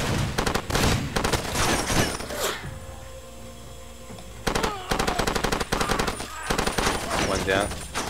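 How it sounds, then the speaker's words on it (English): A mounted machine gun in the Far Cry 2 video game fires loud, close, rapid bursts, with a long opening volley, a pause of about two seconds, then another sustained stretch of fire. "We'll just drive right through it, draw them out, and take them down with the mounted gun."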